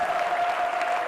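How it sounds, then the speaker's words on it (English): Students in a classroom clap together, a short burst of dense, even applause lasting about a second, nearby and fairly loud, with a steady tone running underneath. "Give him a clap,"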